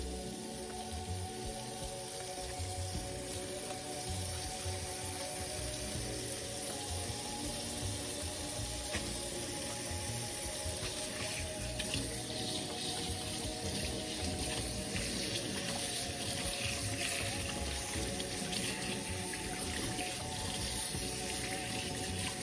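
Hands being scrubbed under a running tap, a steady faint rush of water into a sink with small splashes and rubbing throughout, no talking.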